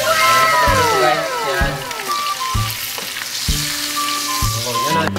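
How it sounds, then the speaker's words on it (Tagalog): Galunggong fish fry in a hot pan of oil with a dense, steady sizzle and crackle, punctuated by the clink of a utensil stirring and tapping the pan. "magprito po ng isda"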